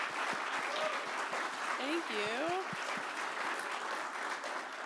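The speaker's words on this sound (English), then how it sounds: "I first of all want to give Annie a huge round of applause for coming and inspiring us today" Audience applause fills the room after a Nerd Nite talk, steady and dense throughout, with a host briefly speaking thanks over the clapping.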